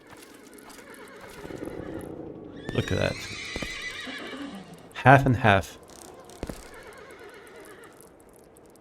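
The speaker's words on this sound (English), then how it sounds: "All these beautiful horses here." Horses in the Elder Scrolls game Morrowind whinny loudly twice near a fort built around an iron mine, with hoof clip-clops between, as people talk casually over them.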